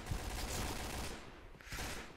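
Rapid gunfire from the video game Point Blank rattles in quick bursts, fairly faint and slightly muffled, with a short lull near the middle before shooting resumes.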